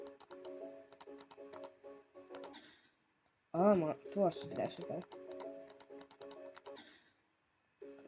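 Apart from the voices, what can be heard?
clicking while playing Geometry Dash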